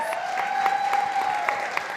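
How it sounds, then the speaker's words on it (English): A conference crowd claps steadily, a dense wash of applause from a room full of people. "Huge round of applause for her, please"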